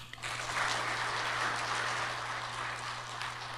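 Audience applause at the opening ceremony of the 2015 Future Energy Forum in Korea, following the opening address: a steady, dense wash of clapping that holds evenly for the whole stretch with no voices over it.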